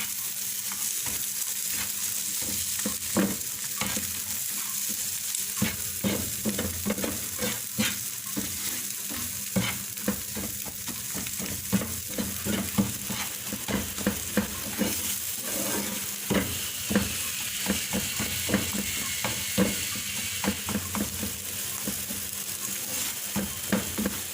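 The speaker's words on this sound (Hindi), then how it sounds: "अब इतनी देर तक इसको पकाना है कि ये अंडा जो है इसमें दानेदार सा हो जाए" Egg cooks in a pan with onion-spice mixture for anda shami, giving off a constant loud sizzle with frequent rhythmic scrapes and taps of a spatula against the pan, close and unbroken by speech.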